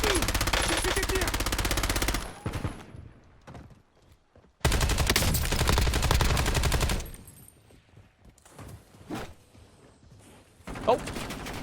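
Automatic gunfire in Call of Duty Warzone, two dense sustained bursts of rapid shots followed by quieter scattered sounds, with a player talking.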